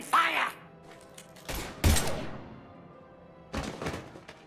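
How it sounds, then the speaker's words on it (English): Gunfire in the Mass Effect Legendary Edition video game: a few sharp shot bursts, loud and close, separated by short gaps, with a voice speaking at the very start. "Now open fire!"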